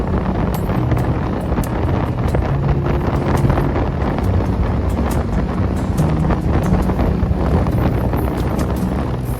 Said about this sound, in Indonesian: Angin sepoi-sepoi juga ikut nemenin perjalanan kita.